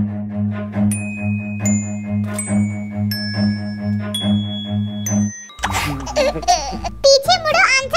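A series of bright ringing hand bell tones, like an ice cream seller's bell, struck one after another at an even pace, then people start talking.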